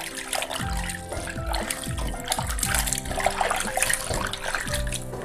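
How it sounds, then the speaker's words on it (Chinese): Pork being rinsed in a pot of clean water, with repeated splashing and sloshing in a steady rhythm, close and fairly loud throughout. "然后咱们再加点清水，把肉洗一下子"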